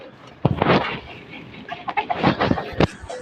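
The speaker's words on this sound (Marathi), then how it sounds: "कोंबड्या" Farmyard chickens cluck in short bursts, a few sharp peaks standing out near the mic against a busy outdoor background, with a goat tethered nearby and a faint voice at times.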